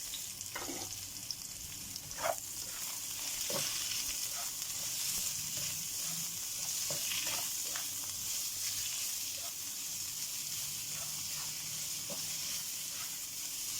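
White onion frying in a pan gives a steady, loud hiss, with scattered sharp crackles and pops throughout and a few faint scrapes of stirring.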